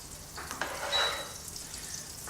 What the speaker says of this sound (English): And I'm also going to add in with the butter a little bit of oil.